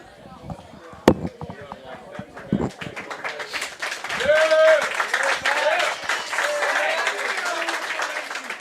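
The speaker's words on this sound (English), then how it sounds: "A rousing applause for Matt Wagner out here." At a live sports show, an audience applauds the football player Matt Wagner, clapping and crowd noise swelling and holding steady in the second half, with people talking over it.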